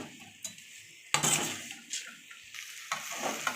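Fried cabbage pakoda being stirred into Manchurian sauce in a pan, with several soft scraping clinks of a spoon against metal and a light sizzle underneath, close and fairly quiet.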